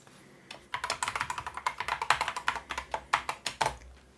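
Keystrokes on a computer keyboard as a password is entered, a quick irregular run of about thirty crisp taps, close and fairly soft, with no voices.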